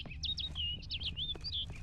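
Bright chirping bird calls from The Witcher 3: Blood and Wine, a quick run of rising and falling tweets that follow one another closely, with no talk, over a soft low background hum.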